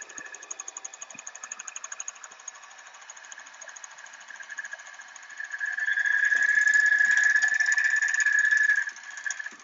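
An overlocker runs three rows of flatlock stitching, giving a steady mechanical whir with a fine rapid buzz. It starts softer, swells louder from about six to nine seconds, then cuts off. No one speaks.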